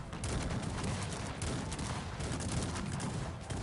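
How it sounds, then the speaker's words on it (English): Dense, continuous battlefield gunfire and cannon volleys from the video game Cossacks 3, a loud rolling fusillade with overlapping blasts and crackling shots sustained throughout with no pauses. "Oh, nice cannon volley."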